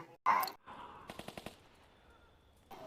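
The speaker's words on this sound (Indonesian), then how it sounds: "karena terdengar suara tembakan" A sharp burst opens in a film scene, followed by a quick string of five rapid gunshots, then a quiet tail.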